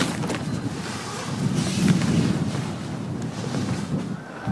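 Strong wind buffeting the microphone on a cloudy day, a constant low roar with gusty swells and rumbling throughout, loud and close with no talking.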